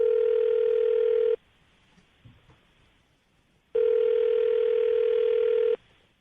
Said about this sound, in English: I'm going to dial the phone number and let you make your Awkward Tuesday phone call